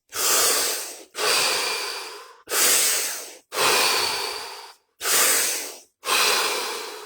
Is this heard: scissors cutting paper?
no